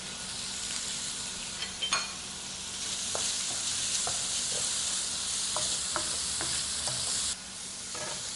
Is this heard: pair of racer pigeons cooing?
no